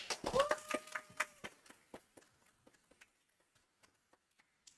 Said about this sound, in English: Please give a big applause for our speakers.